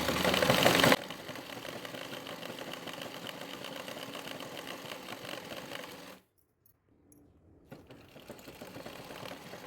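A sewing machine stitches a round seam on old reused cloth, running steadily with a loud whirring start, then a brief pause in motor sound before it starts up again.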